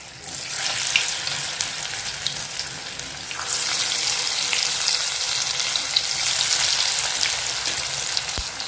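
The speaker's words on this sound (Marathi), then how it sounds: "तेल तापलं तेल तापल्यानंतरच घालायचं गॅस मिडियम केले" Alu vadi pieces fry in hot oil on a medium flame, producing a steady hiss that turns louder and denser partway through, with light crackles and a single knock near the end.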